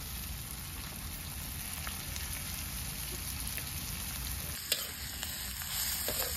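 Katla fish frying in a pan with a steady crackling sizzle like light rain, close and continuous, while a spoon stirs and scrapes now and then, with one sharp clink.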